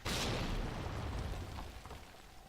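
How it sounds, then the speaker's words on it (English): A grenade goes off among zombies in a video game, giving one loud, close boom that rolls off into a fading rumble with no voices. "I like to just throw a grenade at them."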